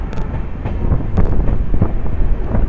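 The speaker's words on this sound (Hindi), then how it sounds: "देखिए दोस्तों कितनी खूबसूरत एकदम हैवी टर्न के साथ अब अपनी ट्रेन जो है ब्रह्मपुत्र नदी पे जाने वाली है।" A passenger train on the New Delhi to Guwahati route takes a heavy curve toward the Brahmaputra river rail bridge, rumbling steadily with wind buffeting and brief high squeals from the wheels.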